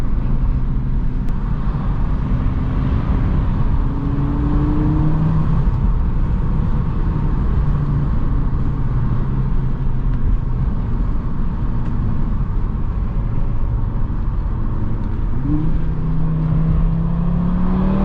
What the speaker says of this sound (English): This car definitely handles really good.